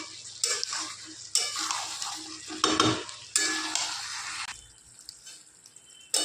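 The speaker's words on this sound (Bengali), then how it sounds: "চিকেনটা ভালো করে কষানো হয়ে গেছে।" Chicken being stir-fried in a pan for a pea and capsicum chicken curry, with a loud scraping stir and crackling sizzle coming in close bursts, easing to a quieter fry near the end.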